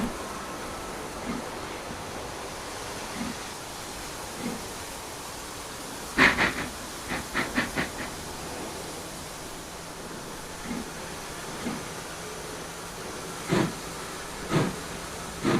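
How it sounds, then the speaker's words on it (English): A loaded freight train rolls slowly across a weighbridge, a steady hissing rumble broken by clusters of sharp metallic clanks and knocks as wagons pass over, moderately close with no talking. "Now the last wagon clears the weighbridge and the train starts its journey."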